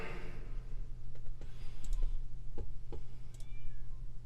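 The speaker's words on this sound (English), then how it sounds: "Meow, says the cat." A cat meows a few times over a steady low hum, with light clicking sounds scattered through; no one speaks.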